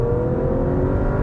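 A car engine with a slightly sporty character pulls hard after a brief lag, giving a steady, loud, continuous drone that fills the whole moment, with no talking over it.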